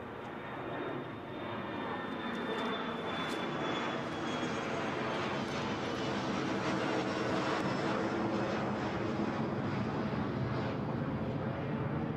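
EasyJet airliner flying over Newcastle airport on a gusty crosswind day, giving a loud, steady jet engine roar that holds for the whole stretch with a faint high whine above it and no voices.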